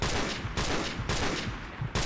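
Bursts of rapid gunfire in a first-person shooter video game, four dense loud volleys in quick succession with brief gaps between them.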